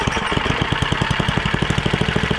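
A Tecumseh 9hp small engine idles steadily after a carburetor repair, its close, loud, even chugging pulsing in a quick regular rhythm with no voices.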